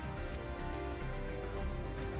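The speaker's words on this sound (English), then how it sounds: "maybe that's why it's raining all the time" Steady rain falls in the video game Final Fantasy XIV Dawntrail, a continuous soft hiss of drops layered under game music, faint and unbroken.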